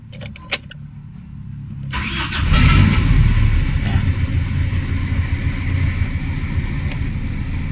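A second-hand car, checked for its thermostat, is started with a brief click and jangle of keys, then the engine cranks and catches into a loud, steady close idle.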